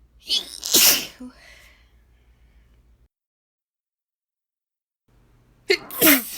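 A woman's full, unstifled sneeze bursts out close and loud, then a few seconds of silence follow before a second sneeze begins at the end.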